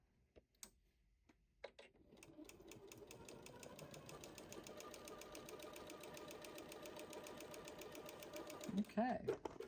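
A sewing machine stitching binding onto a quilt: a few faint clicks, then the motor starts and builds into a steady rapid stitching hum that gets louder toward the end.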